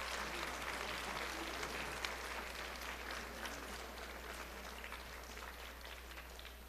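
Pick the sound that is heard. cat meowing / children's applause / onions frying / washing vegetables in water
children's applause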